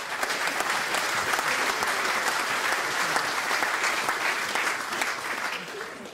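An audience at a ranking announcement at a sports event in Schwerin applauds, a sustained dense clapping that holds steady for several seconds before easing slightly at the end.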